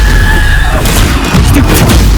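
A Stupefy spell goes off in the video game Hogwarts Legacy: a dense, loud booming blast with a rumbling low end and crackling bursts that keep going throughout.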